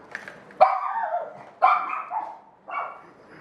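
A dog barks three times nearby indoors, each sharp bark trailing into a short whine, with brief pauses between them.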